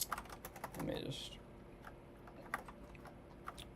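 Keys on a computer keyboard tapped in irregular quick bursts, close but quiet, while a voice speaks briefly under a soft room hum.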